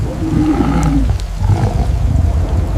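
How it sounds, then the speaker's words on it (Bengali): Deep, heavy roaring from a lion and a tiger fighting in heavy rain on wet mud, loud and close over a steady wash of rain and wind noise, swelling in bursts for a few seconds. "কঠিন বৃষ্টির মাঝেও গর্জন"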